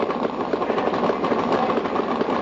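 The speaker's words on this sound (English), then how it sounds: "Both bikes inching their way forward into the staging beams." Harley-Davidson Top Fuel drag bike engines idle steadily at the staging beams of a 1995 AHDRA drag race at Kil Kare Dragway, a continuous rough mid-range rumble that holds at a constant level throughout.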